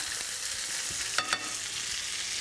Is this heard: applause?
no